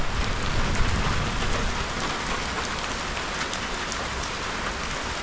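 Heavy rain pours steadily on a hut or open pavilion at night, a dense, loud wash of drops with no pauses and no voices over it.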